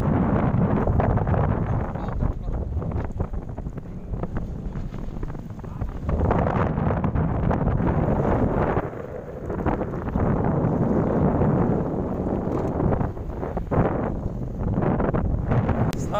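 Strong east wind at sea on a fishing boat off Indramayu, buffeting the microphone in loud gusty roars that rise and fall steadily, with occasional voices underneath.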